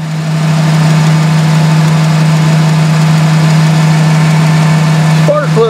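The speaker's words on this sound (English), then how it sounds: "It's only running on 7 cylinders." A truck engine idles roughly on seven cylinders with a loud, steady low drone and uneven pulsing, close by, before a brief squeaky change at the end.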